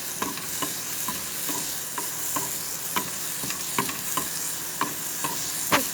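Poppy seeds dry roasting without oil in a pan, with a steady soft crackle and sizzle broken by repeated scrapes and taps of a stirring spoon, close and fairly quiet, no voices.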